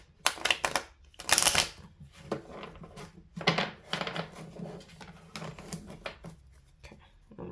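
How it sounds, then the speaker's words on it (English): Tarot cards riffled and shuffled in several bursts, a crisp close flutter with brief pauses between each round, no voices. "Okay, one more shuffle."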